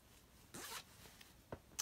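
A zipper on a baby doll outfit is pulled in a short, close, quick rasping stroke, followed by soft handling clicks.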